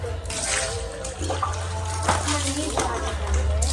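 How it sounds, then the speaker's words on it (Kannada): Water splashes and pours steadily as people play with water during an outdoor vehicle wash, with voices talking faintly underneath and a low hum throughout. "ಇವ್ರು ನೀರೆಲ್ಲ ಆಟ ಆಡ್ತಾವಳ ಅವಾಗಿಂದ"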